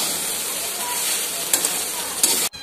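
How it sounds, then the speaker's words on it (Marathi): Puffed rice poha is stir-fried in a pan, giving a continuous close sizzle and hiss punctuated by a couple of sharp spatula scrapes, then a sudden stop. "पोहे जसे आपण परतून घेतो तसेच हे पण घ्यायचे आहे."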